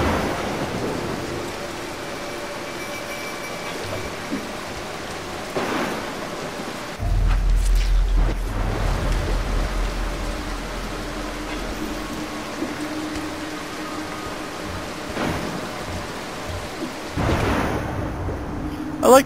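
Rain pours steadily through a thunderstorm in the stealth video game Mark of the Ninja, with thunder rumbling loudly in low bursts around the middle and again near the end.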